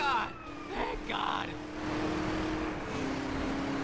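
Police car siren in GTA San Andreas, a steady wailing tone held across the clip amid game engine noise, with a voice talking over it at the start.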